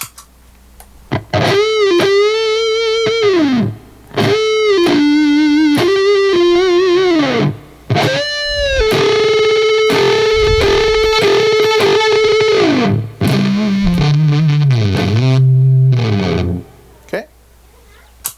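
Distorted electric guitar plays a sustained, bending lead line through fuzz and wah pedals with a fuzzy, vocal-like sweeping tone, loud and up front, with brief pauses between phrases; a guitar solo.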